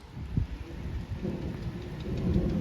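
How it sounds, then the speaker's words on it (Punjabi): Heavy rain pours steadily with low rumbling thunder underneath, a continuous dense wash of noise. "ਹੁਣ ਚੱਲੀ ਆਪਾਂ ਥੱਲੇ ਨੂੰ ਮੀਂਹ ਆ ਗਿਆ ਬਹੁਤ ਤੇਜ਼"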